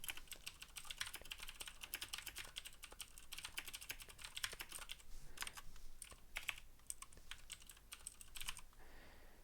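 Someone types on a computer keyboard while programming, with rapid, continuous clicking of keys at close range, steady and fairly soft with brief pauses between bursts.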